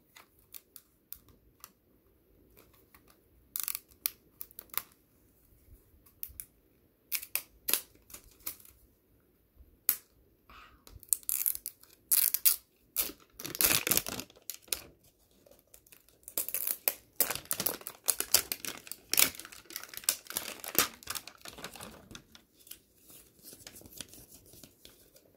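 Crinkly plastic packaging around an LOL doll is unwrapped up close in a quiet room, with sparse crackles and rustles at first that build into dense, crisp crinkling bursts, and no voice.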